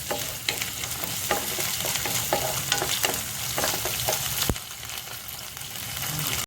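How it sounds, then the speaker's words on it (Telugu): Onion, green chilli and ginger garlic paste fry in hot oil, a loud continuous sizzle with stirring clicks, easing slightly after a sharp knock partway through, no voices. "దీంట్లో 1 టేబుల్ స్పూన్ అల్లం వెల్లుల్లి పేస్ట్ వేసుకుని ఫ్రై చేసుకుందామండి."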